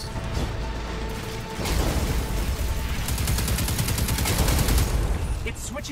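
Gunfire in the video game Destiny 2. Sustained rapid automatic fire forms a dense, rattling stream over a few seconds, with mechanical clatter and a steady low rumble behind it.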